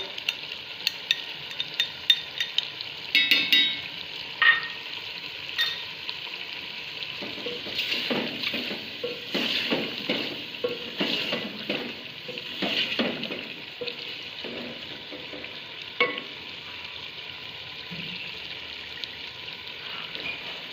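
Chicken with ginger-garlic paste sizzles and crackles in a hot pan with occasional scraping and stirring knocks, a steady frying hiss throughout.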